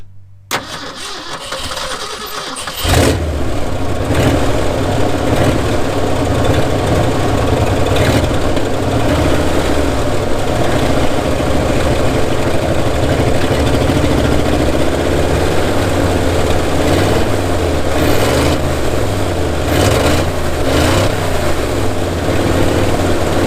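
An old truck's engine cranks and catches after a short quiet start, then settles into a steady, loud, low idle that runs on continuously with no talking.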